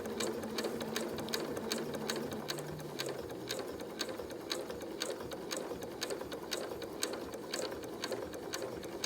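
Sewing machine stitching a face mask, its needle tapping in a fast, even rhythm over a steady motor hum, close and alone.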